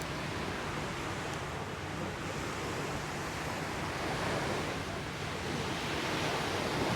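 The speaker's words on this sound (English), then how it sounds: "see how close the sea comes up when the tide's in" Sea surf rolls onto the shore of a Thai island at high tide, a dense, steady wash of breaking water with a gusty wind roar and no voices.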